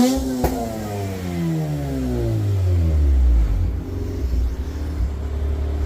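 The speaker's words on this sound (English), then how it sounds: "I'm just going to give it a couple of revs with this new tune." A Mazda RX-8 rotary engine running a new tune revs up loudly and then falls back, its droning pitch rising and sinking in one smooth sweep before settling to a steady idle, close and alone.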